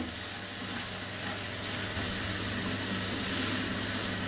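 Onions fry in a pan for a Bangladeshi hilsa fish head vuna, giving a continuous, even sizzle with faint stirring, steady and close with no voices.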